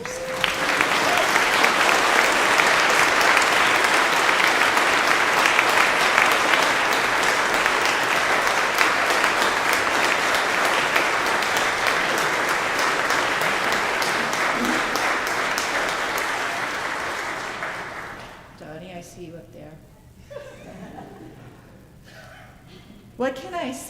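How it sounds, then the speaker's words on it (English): A church congregation at a Sunday service applauds in a sustained, dense round that fills the space for about eighteen seconds and then fades into quiet room sound. "maybe we could, have a little round of applause for ourselves."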